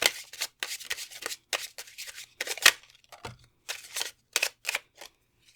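A tarot card deck being shuffled up close in quick riffling bursts separated by short pauses, with no talking.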